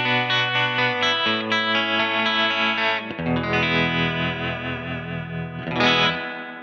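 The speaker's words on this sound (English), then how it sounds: "And now let's add some of the tremolo." Electric guitar played through a Keeley Hydra reverb and tremolo pedal, sustained chords pulsing with tremolo and washed in reverb, loud and close, with no voice.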